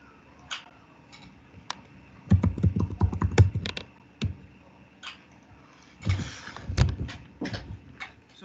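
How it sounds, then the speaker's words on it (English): Typing on a computer keyboard in an engineering class setting, with irregular bursts of clicky keystrokes, sparse single taps between denser flurries, close and clear with no talking. "So while Marvelous is typing now"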